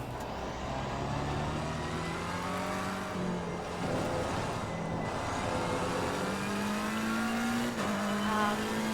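Race car engine lapping a circuit in a sim racing game, a steady high engine drone rising and falling through gear changes, with brief drops around corners, continuous and alone throughout.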